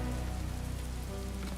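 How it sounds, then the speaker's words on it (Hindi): Steady rain falling on a surface, a dense continuous patter heard briefly behind a low hum. "अरे बारिश हो रही है,"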